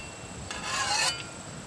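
A flat file rasps along a shovel edge in one short forward stroke, a close, dry scraping burst of about half a second set against quiet hiss.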